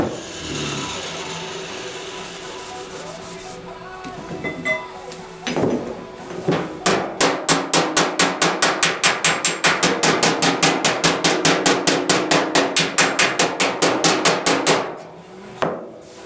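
Rapid, steady hammer blows flatten sheet metal during panel bumping, dozens of sharp metallic strikes in quick regular rhythm, close and loud, after a few scattered knocks and a brief lull.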